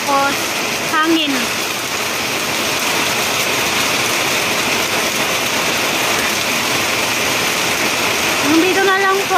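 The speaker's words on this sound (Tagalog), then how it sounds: "Malakas ang ulan tapos hangin." Heavy rain pours steadily with wind around a house, a dense, loud, unbroken hiss and patter, with brief rising tones near the start and end.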